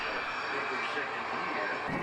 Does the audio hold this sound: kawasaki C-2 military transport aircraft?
yes